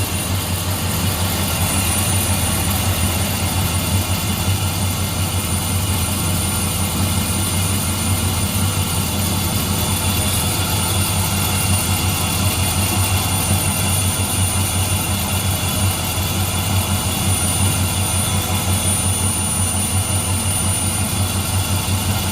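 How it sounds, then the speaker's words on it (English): A 2005 Dodge pickup with a 4.7L engine, suspected of a blown head gasket, idling close by with junky-sounding pulleys: a steady, droning engine hum with a constant high whine, unchanging throughout. "Pulleys sound kind of junky."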